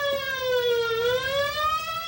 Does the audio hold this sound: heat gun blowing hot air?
no